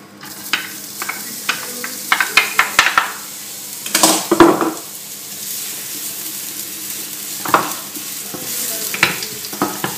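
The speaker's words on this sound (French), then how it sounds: "On va y rajouter un oignon rouge qu'on a ciselé" Half a red onion, finely chopped, frying in a little olive oil in a pan, a low sizzle broken by repeated spoon scrapes and clinks against the pan, with a louder burst of stirring midway and no voices.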